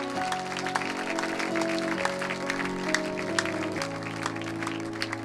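A church congregation claps and cheers for the Lord, scattered sharp hand claps over sustained organ or keyboard chords, fairly soft and steady throughout.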